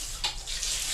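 Water from a shower on a farm runs in a soft, steady hiss close by, with a brief splashy surge near the start.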